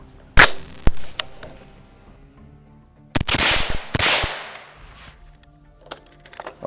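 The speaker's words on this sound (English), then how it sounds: "So first we're going to start off with 125 grain supersonic ammunition." An 8-inch 300 Blackout rifle fires 125 grain supersonic rounds, giving several loud, sharp cracks spaced irregularly, two close together with ringing echoes, outdoors with no talk.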